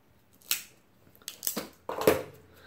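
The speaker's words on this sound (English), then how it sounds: "we will cut this bad boy up, we'll light him, and we'll smoke him" A Padron 1926 Serie No. 90 maduro cigar being cut with a cutter: several close, crisp snipping and crunching clicks in quick succession, with no talking.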